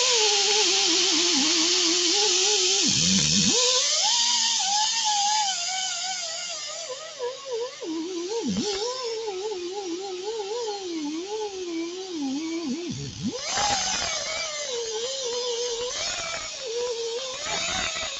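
A compressed-air pneumatic tool, freshly oiled and running while a Subaru engine is prepped, gives a steady whirring hiss with brief dips and surges in speed, fairly close and without talk.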